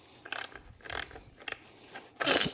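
Ratchet loosening a cam sprocket bolt on a Subaru 2.5L WRX STI engine: several short, close clicking bursts with brief pauses, ending in a louder rasping burst.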